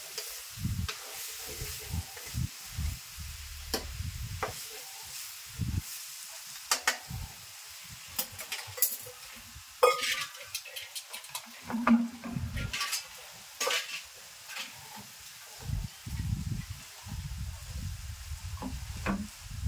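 Oil sizzles softly in a kadai as utensils stir and scrape intermittently, with occasional clinks against the metal, no voices.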